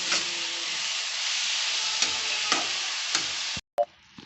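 Grated carrot frying with sugar in a pan for carrot halwa, a steady close sizzle with a few scrapes of stirring, ending in an abrupt cut and a brief clank.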